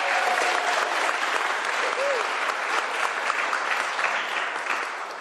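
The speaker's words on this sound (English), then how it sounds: "Give a round of applause for these guys." A crowd at a governor's bill signing in Washington gives sustained applause, a thick even roar of clapping that fades slightly at the end, with a faint voice briefly audible underneath.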